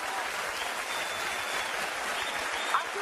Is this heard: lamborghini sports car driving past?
no